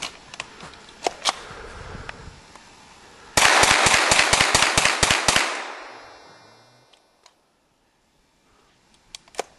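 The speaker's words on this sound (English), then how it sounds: "I highly recommend getting you a High Point 9mm carbine rifle, model 995." Hi-Point 995 9mm carbine rifle firing outdoors, a quick string of about ten sharp loud shots in rapid succession with echoing decay, plus a few scattered single cracks before and after.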